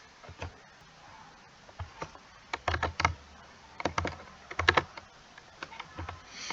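Typing ipconfig on a computer keyboard, a quick close run of crisp key clicks in short bursts with brief pauses, no talking.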